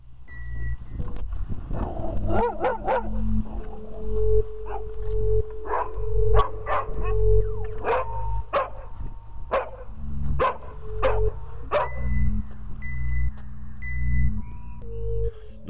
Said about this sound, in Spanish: el doctor Armitage fue despertado bruscamente por los desgarradores y feroces ladridos del imponente perro guardián